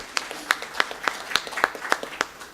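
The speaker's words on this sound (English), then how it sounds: "Let's give Honorable Betty Bigombe a round of applause" A small audience at a high-level policy dialogue claps sparsely, with distinct, sharp individual claps in an uneven rhythm for a couple of seconds.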